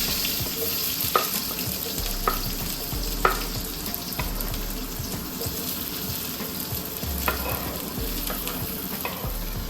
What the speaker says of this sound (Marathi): लसूण आलं हे सर्व भाजून घेतलं